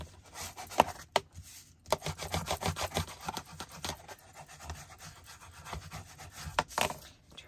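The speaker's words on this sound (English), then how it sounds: "we're going to turn it over and we're going to burnish that down" A folded paper card being burnished flat, heard as close, repeated scraping rubs with short gaps and uneven bursts of friction noise.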